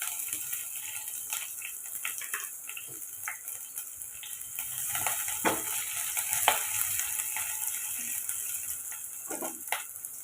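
Steady sizzling of onions, garlic and chillies frying in a pan, with occasional stirring scrapes and clinks; no voices.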